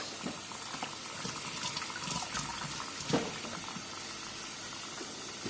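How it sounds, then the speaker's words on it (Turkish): Tap water runs steadily into a sink while leeks are washed, a continuous close hiss with small splashes and clatter as the vegetables are handled. "İki tane pırasamız var. Onları da yıkıyoruz."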